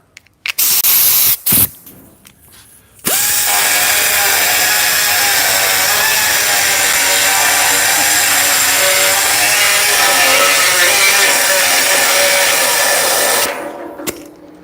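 A loud power tool trims metal on a custom 1968 VW, a few short bursts starting and stopping, then a sustained harsh, high-pitched grinding whine that runs for about ten seconds before cutting off.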